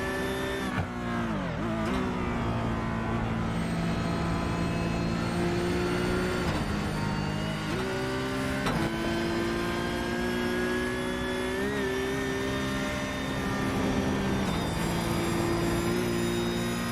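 A Porsche Cup race car runs at full throttle on the downhill stretch of the Nürburgring Nordschleife, its loud engine heard from on board with rising revs, sharp gear shifts and brief lifts, a continuous near howl without talk.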